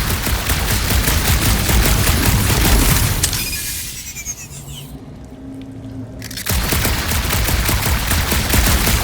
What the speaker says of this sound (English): What are you firing at, Peter Quill?